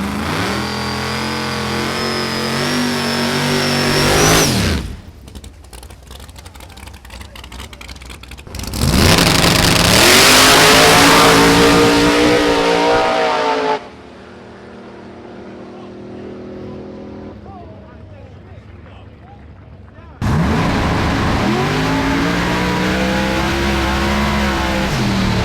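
A supercharged Gen 3 Hemi-powered Mustang drag car roars in loud bursts of engine noise with abrupt cutoffs between runs, the blasts separated by quieter stretches of background sound.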